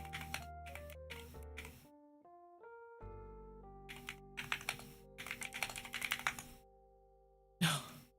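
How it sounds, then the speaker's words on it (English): Bursts of loud clacking computer keyboard typing come in quick clusters between gentle sustained synth tones, ending with a sharp louder key flurry near the end. "my keyboard is so loud"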